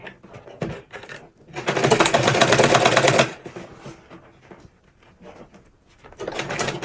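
A sewing machine stitches a padded turban in one loud, steady run of about a second and a half, framed by quieter fabric handling and shorter bursts at either end.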